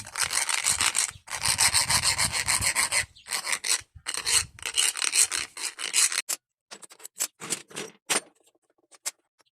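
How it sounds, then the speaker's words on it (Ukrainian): A metal file rasping the edges of a pipe to remove the burr, a close run of rhythmic scraping strokes that breaks into shorter, scattered strokes, alone with no talk. "Зачищаємо краї, знімаємо хвастку."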